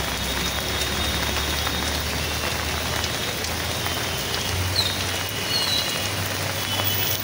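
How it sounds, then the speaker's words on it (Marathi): Heavy rain pours steadily on a street around Grand Road and Nana Chowk in Mumbai during a downpour, a loud, dense hiss that holds throughout with a low engine-like hum underneath and no talking. "बघा बघा फुल जोरदार पाऊस चालू आहे इकडे."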